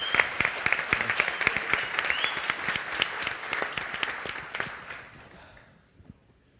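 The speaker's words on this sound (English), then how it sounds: "Please give a huge round of applause to Howard Marks, CEO of StartEngine" A conference audience claps for a security-token trading panel and its host CEO, steady crowd applause with some sharp individual claps, tapering off and fading to quiet at the end.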